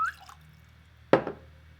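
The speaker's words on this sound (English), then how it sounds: "You can go ahead and pour yourself some." Bourbon whiskey splashes into a glass in one short, sharp burst of liquid, close and fairly loud after a quiet stretch.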